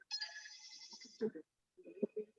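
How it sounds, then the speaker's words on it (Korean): A phone rings indoors with a short electronic ringtone burst at moderate level, followed by brief muffled sounds and a low voice. "잠깐 전화가 와서."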